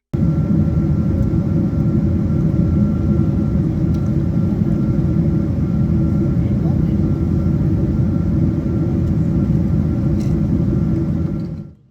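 Steady, loud low-frequency roar of a United Boeing 777 cabin in flight as the airliner circles Chicago before landing at O'Hare, a constant engine and airflow drone that holds unbroken and then cuts off at the very end.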